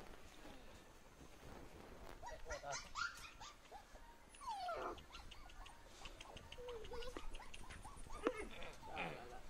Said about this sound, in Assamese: এইটো মেল পাপি হয় এইটো গাৰ্ড ডগৰ কাৰণে বহুত ধুনিয়া হ'ব